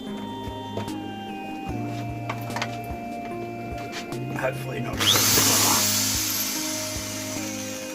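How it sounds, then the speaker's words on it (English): A power drill whirs in short bursts up close while drilling holes in a plastic bottle, its pitch shifting as it works, then grinds harder near the end; a voice speaks briefly. "Alright, so now I'm going to start drilling holes."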